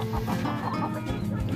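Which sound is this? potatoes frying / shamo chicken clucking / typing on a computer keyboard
shamo chicken clucking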